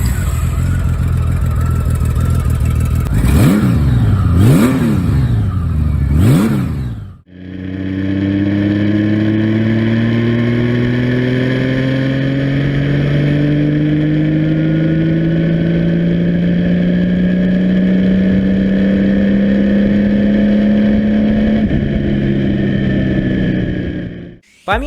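A Honda Valkyrie 1500 cruiser's 1520 cc flat-six engine blips through three sharp revs, cuts briefly, then pulls in a long rising, smooth roar as it accelerates, loud and close with no talk.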